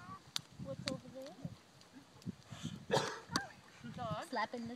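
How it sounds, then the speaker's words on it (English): A dog yips and whimpers in short bursts by a campfire, mixed with a voice and adult talk nearby. "Dog."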